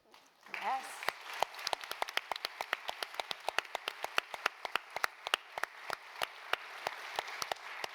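Audience applause after a panel at a symposium, a dense crowd of hands clapping that swells quickly and holds steady, with one person clapping sharply close by over the crowd.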